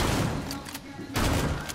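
Video game gunfire, a burst of loud, close shots, then a brief lull and a second volley, with a player's voice faintly mixed in beneath the shooting.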